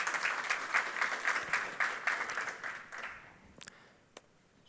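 Audience applause welcomes a speaker at a conference talk: a modest room of hands clapping with an uneven rhythm for about three seconds, then dying away to a couple of scattered final claps.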